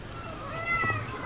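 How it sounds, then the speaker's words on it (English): A pet cat gives one short meow at close range indoors, rising over a constant background hum. "Why are you meowing?"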